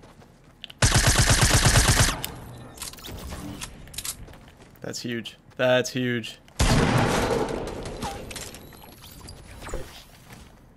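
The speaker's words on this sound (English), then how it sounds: "What is that gun? I don't recognize that sound." Rapid automatic gunfire from an unfamiliar weapon in the Fortnite battle royale game rattles loudly in a tight burst, then returns after a pause as another sustained volley, with a voice speaking briefly between the bursts.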